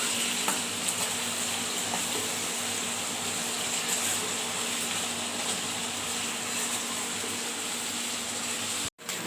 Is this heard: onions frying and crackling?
yes